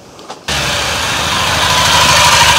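A car engine catches abruptly after a brief near-silence, then settles into a loud, steady idle that runs close by without any voices.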